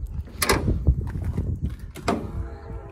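Side emergency exit door on a 2011 Thomas Saf-T-Liner HDX school bus swinging shut, a sharp metallic latch clack followed by a second solid thump and mechanical rattle, close by with little else around.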